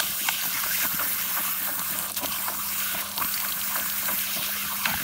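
Water gushes steadily straight out of a garden hose on a South Dakota farm, a loud continuous hissing rush with faint clicks and knocks underneath.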